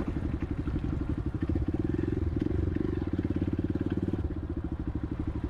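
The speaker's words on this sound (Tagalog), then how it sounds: "May traktor na." A tractor engine chugs with a rapid, regular knocking pulse at close range in Santo Tomas, steady throughout and rising slightly in intensity midway.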